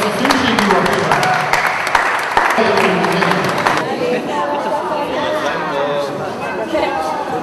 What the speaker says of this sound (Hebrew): אפשר להוסיף מחיאות כפיים לאחים הנוספים שהגיעו אחריו